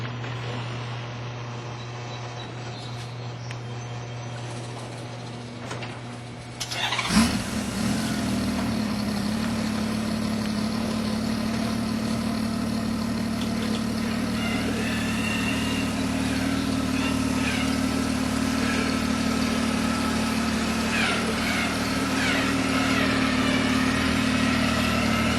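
A motorcycle trike engine cranks and fires into life after a quiet stretch, then settles into a steady, loud, close idle that rumbles on to the end.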